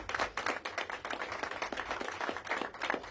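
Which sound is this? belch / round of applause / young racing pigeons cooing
round of applause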